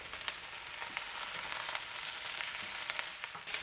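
Chinese cabbage stir-fries in a hot pan with oil, garlic and ginger, giving a steady, close hissing sizzle with faint scraping stirs throughout.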